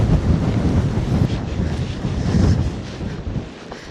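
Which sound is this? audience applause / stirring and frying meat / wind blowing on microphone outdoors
wind blowing on microphone outdoors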